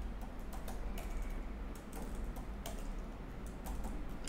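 Quiet, rapid keystrokes on a computer keyboard while coding, an irregular stream of soft clicks and taps at close range with a low background hum.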